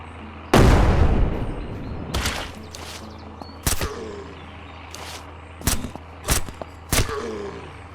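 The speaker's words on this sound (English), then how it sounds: "Throw a grenade." A loud, close grenade blast in the Surroundead video game, followed by several sharp, spaced gunshots and short bursts fading between them.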